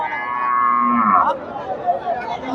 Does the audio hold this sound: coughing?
no